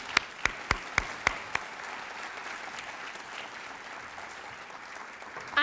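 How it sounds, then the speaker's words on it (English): At a teachers' award ceremony, several sharp, evenly spaced claps ring out first, then a softer spread of audience applause carries on and fades, heard from a distance without talk. "let's give both of them another round of applause"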